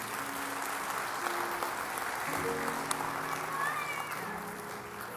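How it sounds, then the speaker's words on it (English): A church congregation at Spring Baptist Church in Spring, Texas, gives a long, even round of applause with a crowd murmur, while voices and faint tonal sounds come through underneath. "Let's give them another round of applause."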